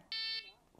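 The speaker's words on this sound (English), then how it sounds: "So I've moved that roller 4 millimeters to get a single beep." A fishing bite alarm from a phone app sounds a single clear, high electronic beep, close and fairly loud, lasting about a quarter second before a brief quieter tail.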